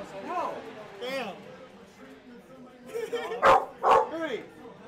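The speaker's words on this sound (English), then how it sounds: "he's just barking. He's not gonna attack you." A dog barks in sharp bursts, two loud close barks standing out near the end, while people talk and shout excitedly over a Smash Bros. tournament.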